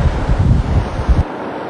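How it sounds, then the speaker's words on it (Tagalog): Heavy typhoon wind buffets the microphone in loud, gusty bursts with a rushing roar and strong rain, then drops away abruptly near the end. "Malakas na ulan at desididong bugso ng hangin."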